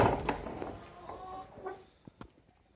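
Chickens cluck near a coop during morning chores, a few short soft clucks and a brief cackle spread across the moment, mid-distance over faint background rustle.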